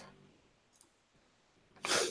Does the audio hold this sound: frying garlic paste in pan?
no